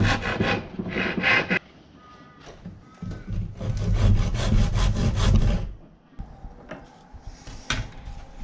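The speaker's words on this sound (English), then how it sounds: "I'll just cut around the corner with the back saw" A back saw cuts through wood in quick, rhythmic rasping strokes, two bursts separated by a short pause, close and clear with no voices.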